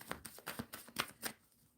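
Tarot cards are shuffled by hand in quick, close riffling bursts, a rhythmic series of crisp papery slaps that fades out near the end.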